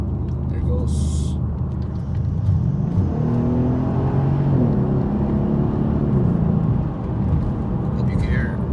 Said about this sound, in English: I'll do a cold start here shortly.